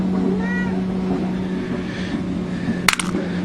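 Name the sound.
cat meowing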